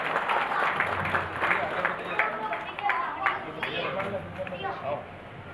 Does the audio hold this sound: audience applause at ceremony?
yes